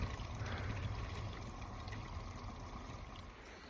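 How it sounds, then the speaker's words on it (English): River water runs into a 100-litre fresh water tank through a hose, a steady, soft trickle and gurgle continuing without a break. "Filling water from the river."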